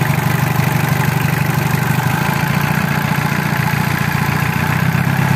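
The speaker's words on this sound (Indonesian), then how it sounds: "Hidup, guys, mesinnya, guys." A Ford Ranger or Mitsubishi Triton pickup engine idles steadily and close by, a constant low rumble with no revving and no talk over it.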